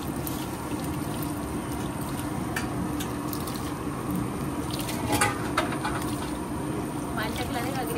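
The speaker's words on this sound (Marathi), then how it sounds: "पाणी थोडं तरी टाकायला लागते ग्रेव्हीसाठी" Water is poured into a simmering gravy for kupa biryani, a steady liquid splash running for several seconds beneath ongoing conversation in a home kitchen.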